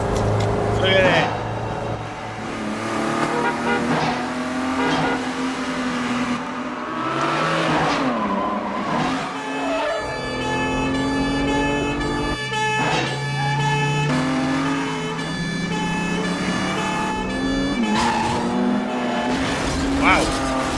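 A gasoline car drives hard and skids in traffic, its engine revving and tires squealing in repeated surges over about twenty seconds, with people talking and reacting throughout.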